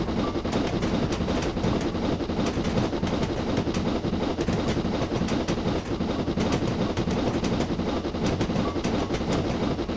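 A Black 5 steam locomotive runs on the Somerset and Dorset Joint Railway, producing a loud, steady rumble with rhythmic rail clatter throughout and no pauses or voices.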